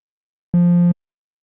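A single short DFAM wavetable synth tone meant as a kick body, played without any pitch envelope: a flat, buzzy low hum lasting under half a second, alone in silence.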